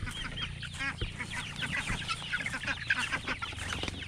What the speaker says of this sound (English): you can hear them